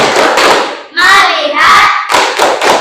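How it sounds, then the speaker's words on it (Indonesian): Primary school class doing a rhythmic "tepuk fokus" clapping chant, loud close hand claps in short patterned bursts, broken by a brief stretch of children's voices before the claps resume. "Tepuk fokus."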